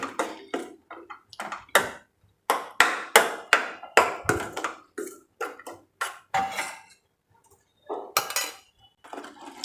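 Metal spoon scraping and clattering against a pan while tomato gravy is stirred into cooked chickpeas for Punjabi chole, a steady run of close, sharp clinks and scrapes with brief pauses between strokes.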